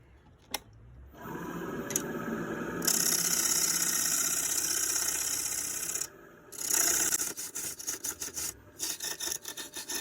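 Small cutting tools scrape and rasp against a Big Leaf Maple bowl as its backside is rounded, loud harsh scraping bursts alternating with short pauses and choppier strokes toward the end.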